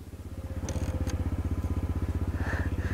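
A small Pee Wee dirt bike engine runs close by with a rapid, steady pulsing putter, its beat quickening slightly, with a few brief clicks and a faint higher tone over it.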